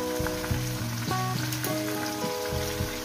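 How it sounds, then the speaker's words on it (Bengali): Chicken pieces frying in oil seasoned with salt and turmeric, giving a steady, dense sizzle with crackling throughout and some tonal hum from kitchen noise in the background. "মাংসটাকে দিয়ে বন্ধুরা ভালো করে মিনিমাম 7 মিনিট ধরে আমি এটাকে ভাজা ভাজা করে নেবো।"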